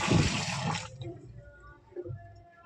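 Water poured into a vessel to wash rice at home, a short loud splashing pour in the first second, then quieter drips and small sloshes, heard close.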